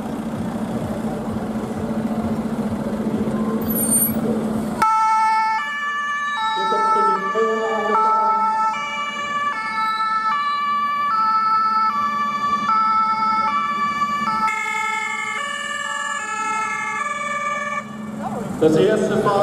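A fire brigade reconnaissance vehicle arrives at an open day at a Wuppertal fire and rescue station, its loud wailing two-tone siren sounding close and continuous over an engine rumble after brief background chatter.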